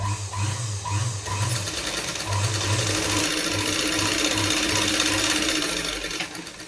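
A sewing machine stitches the sleeve of a kurti, its needle mechanism chattering in a fast, continuous rhythm with brief changes in pace, close and fairly loud with no talking.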